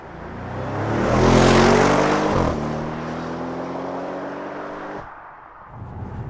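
A 2014 Audi RS6 C7 engine accelerates hard, its roar rising and holding steady as gears climb, then cutting off with a shift near the end, loud and close.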